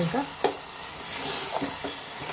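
Tomatoes frying in a pan for a brinjal tomato curry, a steady soft sizzle with a few brief scraping stirs of a spoon, close and fairly quiet.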